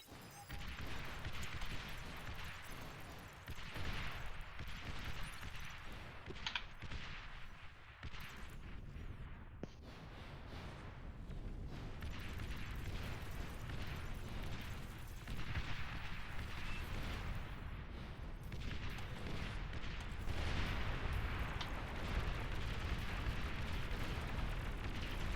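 Rocket bots firing in a strategy video game battle produce a dense, continuous rumble of explosions and gunfire-like blasts with no talking.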